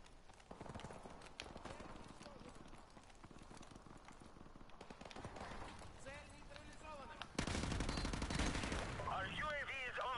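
Rapid gunfire crackles in Call of Duty 4 on hardcore mode, dense bursts of shots that turn louder and harsher near the end, with someone talking over the fighting.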